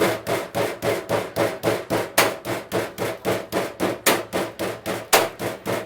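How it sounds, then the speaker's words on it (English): Venison is pounded flat to about half an inch on a hard surface, with a rapid, evenly spaced series of close, sharp thuds, roughly four blows per second. "We're going to try to pound it down to about a 1/2 inch thick."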